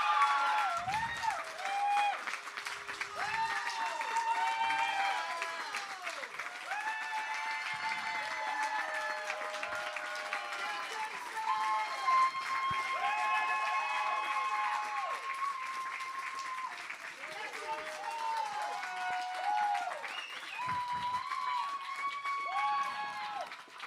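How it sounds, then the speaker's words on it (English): Sustained applause from a large crowd at a barista championship final, steady clapping with scattered cheers and calls over a continuous rumble of hands, lasting the whole stretch. "let's give a very, very loud round of applause"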